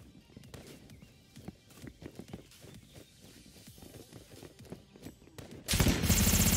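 Gunfire in the shooter game Project Delta, scattered distant shots and footstep-like taps in an uneven rhythm, then a sudden loud blast of noise at the very end.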